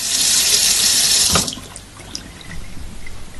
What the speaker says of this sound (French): Je rince donc abondamment et on remarque que l'eau s'écoule très bien.